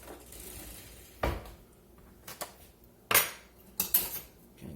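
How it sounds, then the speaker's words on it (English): A metal spoon clinks and scrapes against a pan while smoked, charred chicken wings are stirred and coated. A handful of sharp, close metallic knocks and scrapes come at irregular intervals, with no talking. "Let me get another spoon, get them stirred up."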